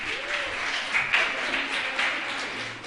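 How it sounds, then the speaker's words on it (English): An audience at a STEM-themed talk applauds a young participant, a steady wash of clapping with a few brief voices rising over it, moderately loud and continuous for a few seconds. "Round of applause for him."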